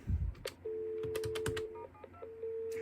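A handful of quick DTMF keypad tones dialing *72 on a custom telephone switch beep in an uneven sequence, some short and one held longer, clear and close over faint background hiss.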